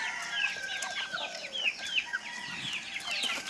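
Native chickens, including day-old chicks, cluck and peep busily in a backyard pen, with a dense, steady stream of short chirps and calls at close range and no talking.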